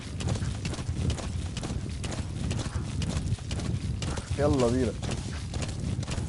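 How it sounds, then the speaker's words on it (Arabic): Horse hooves clip-clop steadily through the Metal Gear Solid V video game, with rhythmic galloping thuds and a brief whinny, under nearly continuous talk by a voice. "لا ده الحصان"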